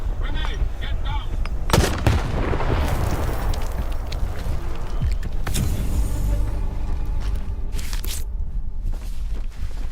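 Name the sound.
grenade explosion and gunfire in S.T.A.L.K.E.R. 2 video game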